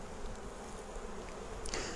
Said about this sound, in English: there's a lot of bees in the box